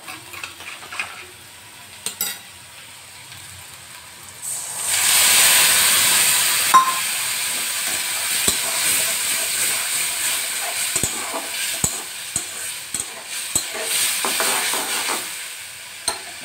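Stone-ground spice paste hits hot oil in a wok for a chicken dish and bursts into a loud hiss and sizzle. It settles into a steady fry with occasional clicks and taps, after a quieter start.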